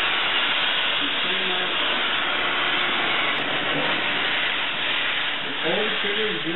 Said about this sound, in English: You pull the trigger to generate the steam.